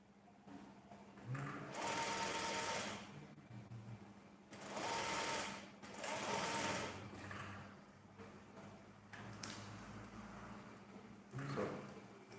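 A sewing machine stitches a suit sleeve, whirring in several close bursts of varying length with brief slowdowns between runs, and a low hum underneath throughout.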